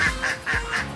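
Ducks at a mini zoo quack in a quick series of four or five nasal calls, close and fairly loud, with no voices over them.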